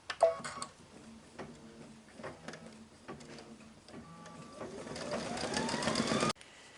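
Home embroidery machine stitching a tack-down line on quilt fabric, a steady close mechanical whir with rapid needle ticks and rhythmic clatter, rising in speed near the end before stopping abruptly.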